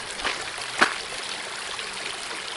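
Steady rushing and trickling of rainwater running off a driveway into a roadside ditch, continuous and fairly close, with a couple of brief splashy bursts near the start.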